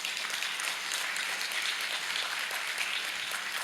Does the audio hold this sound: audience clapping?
yes